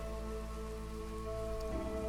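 Steady rain from a drizzle geyser in the video game Against the Storm falls as a dense, continuous hiss under a sustained tonal music drone, even in level throughout with no voices.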